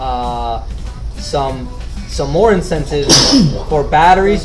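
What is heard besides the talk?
person sneezing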